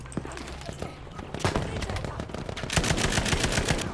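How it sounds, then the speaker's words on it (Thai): Rapid bursts of automatic fire from a Type 11 LMG in the video game Battlefield V crack out in fast, repeated volleys, with distant battle noise and a voice talking over the shooting. "ยิงเพื่อให้มันเหลือ5นะทุกคนจะได้รีโหลดง่ายๆนะ"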